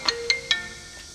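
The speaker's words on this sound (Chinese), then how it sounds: "金宝，金宝给我打什么电话？" A phone gives an incoming-call ringtone of three quick bright electronic chirps in a rising pattern, then a faint fourth. It is clear and fairly close in a quiet indoor room.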